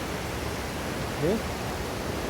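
Rushing water of the Menik Ganga, a steady broadband roar filling the whole stretch, loud and continuous with no break, heard on a forest hike.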